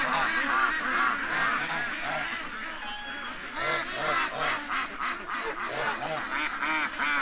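Ducks quack and honk in a noisy, overlapping flock beside a creek with bulrushes, calls dense and close throughout with no pauses.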